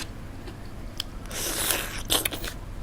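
Someone chews a mouthful of spicy blood cockle salad with chili paste dressing, giving close, wet crunching and biting sounds that swell in the middle and again near the end, with no talk.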